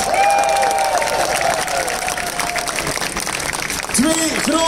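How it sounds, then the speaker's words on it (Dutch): Applause rolls through a crowd with some cheering at the Tour of Leuven 2022 cycling race, while an announcer's amplified voice speaks over it. "nu applaus voor de derde, applaus voor Alexander Christophe"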